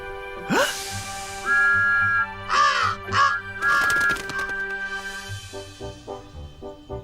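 Crows over a farmer's field at night give a series of loud, close, tonal caws in short bursts, mixed with a hooting, whistle-like tone and a fading rhythmic rattle toward the end.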